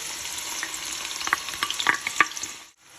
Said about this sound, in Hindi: इसमें मैं डाल रही हूँ ऑयल को गर्म करने के बाद प्याज, जो कि है 2 बड़े साइज के और बिल्कुल छोटा चॉप किया हुआ